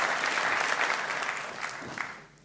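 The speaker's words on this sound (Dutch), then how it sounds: "Dat mag voor geklapt worden, toch?" Audience applause at a dance show, a steady wash of many hands clapping that fades toward the end.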